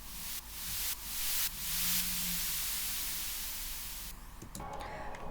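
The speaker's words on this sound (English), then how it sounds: "as well as some white noise." Hissing white noise sweeps in several short swells, then lingers as a softer wash before fading out under a low tone.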